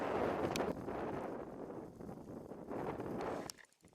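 Wind rushes over a microphone beside an early-spring ice-out bass pond, a loud, steady roar that buffets and eases, then drops off sharply at the end.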